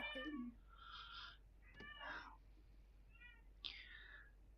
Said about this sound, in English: The extra meowing in the background